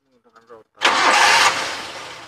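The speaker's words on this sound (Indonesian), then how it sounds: "Nah, ini mobil udah di starter, stasioner" A 1995 Suzuki Carry Futura van engine cranks and catches with a loud surge, then settles into a steady, even idle close by, preceded by someone speaking briefly.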